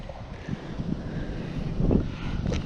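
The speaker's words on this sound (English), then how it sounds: "Sorry about the wind." Gusty wind buffets the microphone outdoors at a coyote trapping spot in Iowa, a steady low rumble with a louder surge near the end, with no talking.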